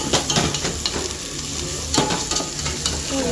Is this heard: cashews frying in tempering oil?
yes